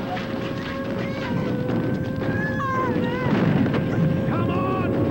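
Anti-aircraft guns fire during a World War II air raid, a steady rumble of distant flak under a siren-like tone, with shouting voices over it.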